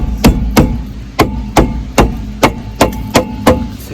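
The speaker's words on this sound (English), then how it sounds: "Just take a hammer" A hammer strikes repeatedly around the rusted rear wheel studs of a Mustang, about ten sharp metallic blows in a steady rhythm, loud and close with no talking.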